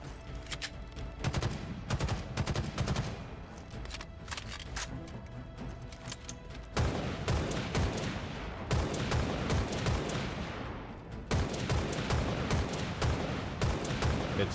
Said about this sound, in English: Let's shoot the DMR.